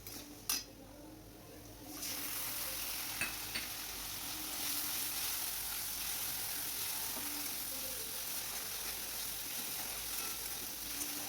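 Ginger-chili paste frying with salt and turmeric in a pan, a steady close hiss and sizzle that swells after a couple of seconds, with a few clinks of a stirring utensil.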